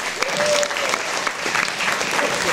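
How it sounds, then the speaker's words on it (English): A round of applause breaks out at a welcoming ceremony as the new director of Recreation is introduced, loud sustained clapping from a gathered audience with scattered voices mixed in. "Give Stan Neron a round of applause as he comes."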